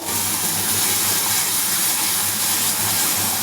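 Water splashed into sticking masala in a hot pan sends up a loud, unbroken steamy hiss and sizzle, close and constant throughout with no voices.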